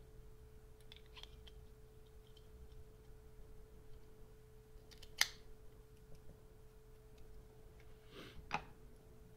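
A Macanudo Hyde Park Maduro cigar is clipped, two faint, sharp snips several seconds apart over a quiet room with low steady hum.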